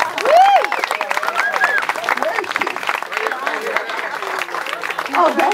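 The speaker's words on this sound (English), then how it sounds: "Give her a big round of applause." A crowd at a Democratic club summer celebration applauds for a congresswoman, sustained clapping with scattered cheers and voices talking over it, loud and close throughout.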